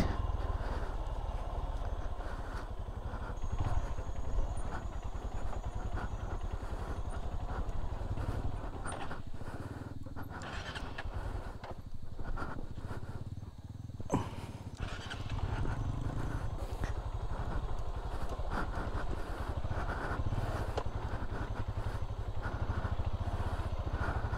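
A motorcycle heads down a very steep, slippery road on a long ride, its engine running as a steady, loud drone throughout with rough road noise and a brief dip near the middle.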